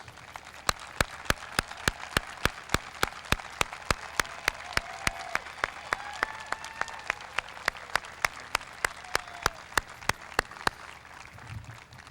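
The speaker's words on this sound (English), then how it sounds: "please stand up so we can recognize and applaud you and thank you for your service" Stadium crowd at an in-person 2020 graduation applauding military graduates and veterans, a soft, distant bed of clapping with sharp evenly spaced clicks cutting through at a steady rhythm for about twelve seconds.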